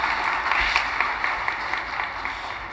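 Audience applause at a tech demo during an AWS Summit in Tel Aviv: a steady, dense wash of many hands clapping in a hall, sustained and even throughout with no voices over it.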